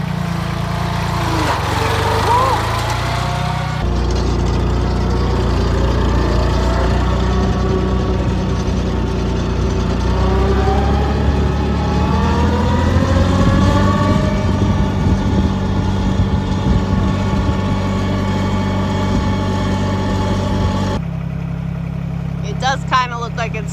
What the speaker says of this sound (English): I'm just sitting here with the tractor, with the bucket.